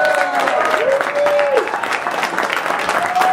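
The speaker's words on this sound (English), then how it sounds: "Please give a warm round of applause for Brendan Small." Audience applause greeting Brendan Small, creator of Home Movies and Metalocalypse, at an Exodus DVD event: steady, dense clapping throughout, with a voice speaking briefly over it.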